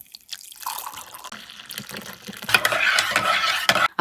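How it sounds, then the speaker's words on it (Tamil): Hot water poured into a spoonful of instant coffee, a soft trickle building into a louder, steady close-up splash and stir of liquid in a cup, heard alone. "அதில் ஜஸ்ட் 1 ஸ்பூன் போட்டுட்டு ஹாட் வாட்டர் ஊற்றிக்கணும்."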